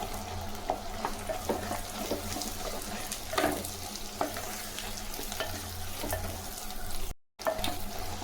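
Brinjal (eggplant) frying in a pan gives a steady, close sizzle, broken by repeated scraping and clinking as it is stirred, with no talk.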